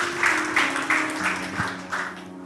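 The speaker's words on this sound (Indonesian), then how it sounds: "kasih tepuk tangan yang meriah buat Tuhan." Congregation clapping during a church sermon, a rhythmic pattern of about six evenly spaced claps in unison with a sustained tone from a keyboard or organ underneath, fading toward the end.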